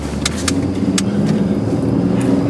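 A car drives past in a train simulation video game, its engine a moderate, steady hum accompanied by a few short, sharp clicks, with no voices.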